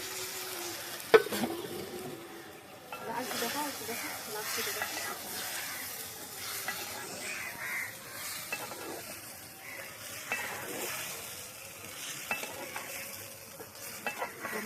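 Eggplant sautés in a pan of spiced masala for a fish curry, with a soft sizzle and intermittent spoon stirring and scraping against the pan, moderately close and fairly quiet.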